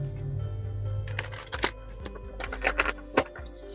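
Tarot cards being shuffled by hand, a soft riffling and flicking with several sharper slaps, fairly close over a low steady background hum, without talk.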